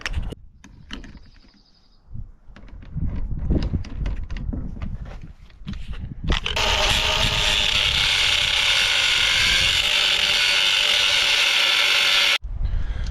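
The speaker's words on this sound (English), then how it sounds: "we're going to be grinding for quite a while here" A grinder with a cutting disc bites into metal during a Big Tex trailer repair, first in short ratcheting mechanical bursts, then in a long loud continuous high-pitched grinding whine that stops abruptly near the end.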